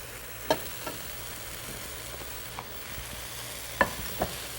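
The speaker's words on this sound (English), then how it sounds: "Give that a stir." Raisins and powdered spices (cinnamon, cardamom, nutmeg, coriander) sizzle in a hot pan with a continuous hiss, broken by a few sharp clinks and scrapes from stirring.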